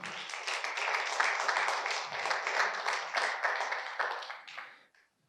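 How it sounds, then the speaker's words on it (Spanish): Church congregation clapping together in praise, a sustained burst of many hands at moderate distance that swells, holds, then fades out over the last second. "¿Por qué no le da un fuerte aplauso al Señor?"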